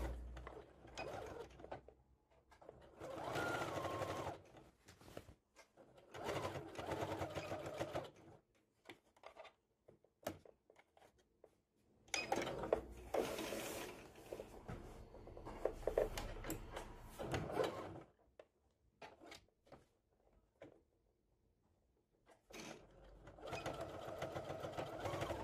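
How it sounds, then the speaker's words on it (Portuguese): A sewing machine stitches fabric for a table runner, running in several bursts of mechanical whirring and clicking separated by short pauses, close and steady with no talking. "Aqui eu vou costurar uma parte e deixar uma abertura."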